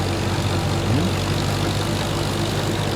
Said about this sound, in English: using this ancient Alice Chalmers trail combine with the Alice Chalmers tractor